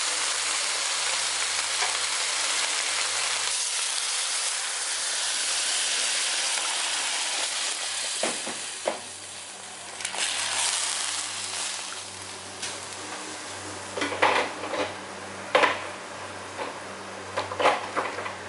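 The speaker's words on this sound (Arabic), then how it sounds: "هنفضل نقلب فيها كده كويس جدا، وهنكب المية بتاعتها من وقت للتاني" Cow trotters sear in a pot as they are stirred, giving a continuous hissing fry with intermittent spoon scrapes and knocks that grow busier toward the end.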